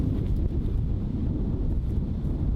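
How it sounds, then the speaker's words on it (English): Strong gusty wind, with gusts up to 60 km/h, roaring and buffeting the microphone at an outdoor disc golf tournament in New South Wales, Australia, a steady low rumble with no one speaking. "The wind was ripping. I heard gusts of up to 60 kilometres per hour."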